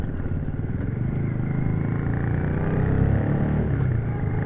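A Royal Enfield Shotgun 650 twin-cylinder motorcycle runs under way, its engine droning steadily and close with a throbbing low rumble and rising slightly in pitch mid-ride, plus wind noise.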